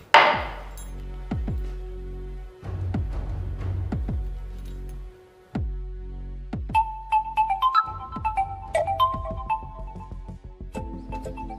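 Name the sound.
mobile phone ringtone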